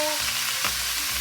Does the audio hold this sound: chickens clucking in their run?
no